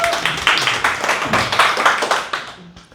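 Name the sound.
class clapping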